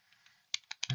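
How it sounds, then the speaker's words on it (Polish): Command typed on a computer keyboard in a terminal, a few faint clicks followed by a quick run of sharper, close key taps. "W tym celu przechodzimy do terminala i wpisujemy polecenie"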